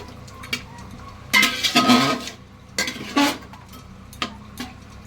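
Metal cooking pot of mutton biryani being covered with its lid, giving a few clattering knocks and scrapes of metal against metal, close and moderately loud over a faint background hiss, with short separate bursts spaced across the stretch.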